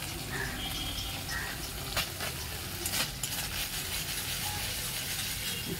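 Ghugni fries in a pan as tadka masala goes in, a busy continuous sizzle broken by scraping stirs and a few clattering knocks of the spoon.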